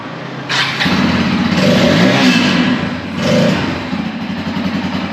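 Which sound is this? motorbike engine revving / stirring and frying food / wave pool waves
motorbike engine revving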